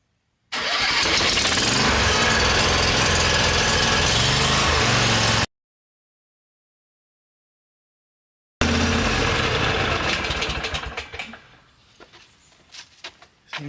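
A Bobcat skid steer with a newly fitted U-bend exhaust cranks and fires into a loud, rough running engine. After it cuts out and falls silent, it restarts, then idles down and dies away.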